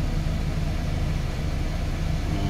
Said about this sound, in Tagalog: Ayan, lakas ng blower niya mga padi.